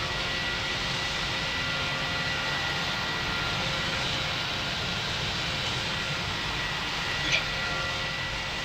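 An Air Canada airliner in the Pilot Training Flight Simulator game, a continuous jet engine drone and rumble at steady level, with a voice talking over it.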